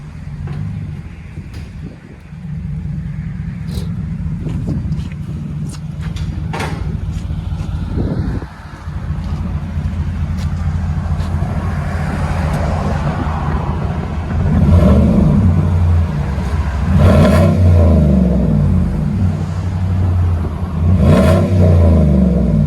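A deep 5.3L V8 engine of a Chevy Silverado pickup rumbles steadily through its exhaust, then revs and surges louder, close by with no talking.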